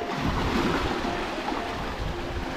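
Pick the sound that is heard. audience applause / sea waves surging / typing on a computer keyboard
sea waves surging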